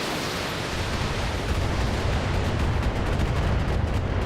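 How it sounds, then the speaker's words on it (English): Long-range missiles firing in the BattleTech video game, a dense, loud burst of roaring noise that swells and crackles with rapid impacts for a few seconds. "Ooh, we had a few missiles miss."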